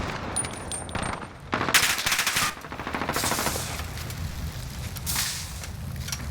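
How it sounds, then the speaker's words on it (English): Pistol gunfire in a shooter video game: sharp shots crack in quick bursts with gaps between them, mid-loud over a low game background, and nobody speaks. "snipes the guy, and randomly starts shooting his pistol at nothing again"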